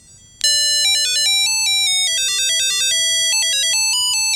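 A Chipolo tracker tag ringtone starts abruptly and plays a loud electronic melody of bright beeping tones that rise and fall in steps and repeat continuously, heard alone.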